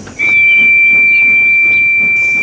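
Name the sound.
steam locomotive whistle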